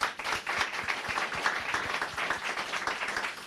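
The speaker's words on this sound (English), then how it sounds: "If we could do a quick round of applause." Audience applause for panelists at a programmatic advertising industry conference, a steady broadband patter of clapping lasting throughout, moderately close and even in loudness.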